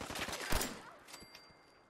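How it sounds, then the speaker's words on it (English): Rapid gunfire in the video game Fallout 4, a dense burst of shots in the first second that fades to a few fainter pops, loud and close. "Why are we getting shot at?"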